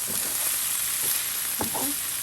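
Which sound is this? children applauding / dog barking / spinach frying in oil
spinach frying in oil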